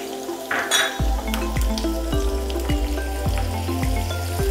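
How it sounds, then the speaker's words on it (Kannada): Urad dal, chana dal and green chillies sauté in ghee for rava idli, a steady close sizzle with a series of metal spoon scrapes and taps against the pan at a regular rhythm. "ಒಂದು ಟೀಸ್ಪೂನ್ ಉದ್ದಿನಬೇಳೆ, ಒಂದು ಟೀಸ್ಪೂನ್ ಕಡಲೆಬೇಳೆ, ಹಾಗೂ ಒಂದು ಎರಡು ಹಸಿಮೆಣಸಿನ್ಕಾಯಿ ತೊಗೊಂಡಿದ್ವಲ್ಲ ಅದನ್ನು ಇದರಲ್ಲೇ ಬಾಡಿಸ್ಕೊಳ್ಳೋಣ"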